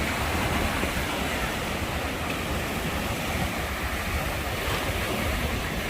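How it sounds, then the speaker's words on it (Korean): Ocean waves breaking steadily on the shore at Guryongpo beach in autumn, a loud, continuous wash of surf with some wind rumble and no distinct pauses between swells. "파도를 바로 앞에서 보니까 네, 정말 가슴이 시원해요"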